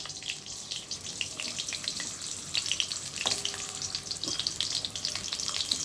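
Sliced potatoes frying in well-heated oil give a steady, close crackling sizzle with dense bursts of popping throughout, and no voices.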